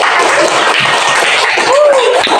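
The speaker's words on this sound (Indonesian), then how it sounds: "Tepuk tangan." Schoolchildren in a classroom clap together in a steady, dense burst of applause lasting a couple of seconds, with a few voices faintly mixed in.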